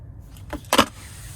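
Key fob of a 2026 Nissan Kicks SR Premium with remote start being handled, giving two brief close jangling and clicking rustles over a quiet background, without talk.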